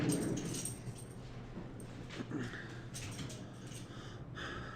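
Pet dogs whimper softly and intermittently in a home during a morning indoors, faint whines over a steady low room hum, with no one talking.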